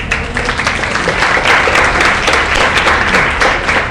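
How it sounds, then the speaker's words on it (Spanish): A loud, dense round of applause from an audience at a youth forum on political science, sustained and evenly thick throughout. "Un aplauso, por favor."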